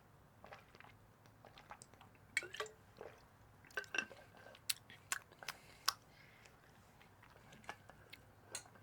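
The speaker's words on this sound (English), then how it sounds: "take a drink of water" Someone sipping and swallowing water from a glass bottle up close, with soft gulps, wet mouth clicks and faint liquid sloshes scattered irregularly over a quiet background.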